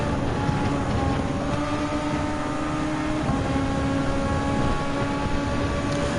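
Ford SF23 race cars in Gran Turismo 7 drone in a close pack, their engines holding a steady, dense roar with rising and falling tonal lines as the cars run in a slipstream line.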